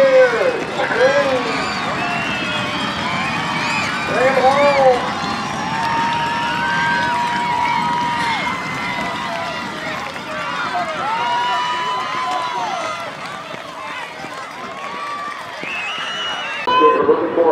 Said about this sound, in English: I want you to get up and cheer. Scream.